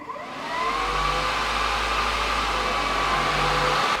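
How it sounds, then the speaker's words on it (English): Car radiator cooling fans switching on with a center-mounted radiator, a steady whooshing roar that swells over the first half second and then holds loud and even, with a low electric hum underneath. "turning fans on."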